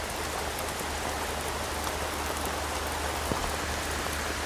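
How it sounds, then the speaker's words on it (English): Heavy rain pours down steadily during a rainstorm, a dense, even hiss of drops with a faint distant thump near the end. "As you hear the rain"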